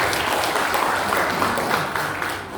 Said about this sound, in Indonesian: Boleh tepuk tangan dulu teman-teman semua.